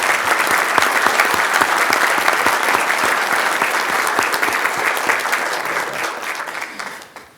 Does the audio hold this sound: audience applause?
yes